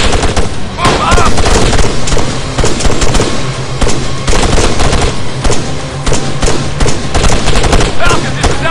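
Dense, loud gunfire in the ArmA 3 military campaign, with overlapping rifle and machine-gun bursts and booms filling the whole stretch while soldiers shout orders over the combat.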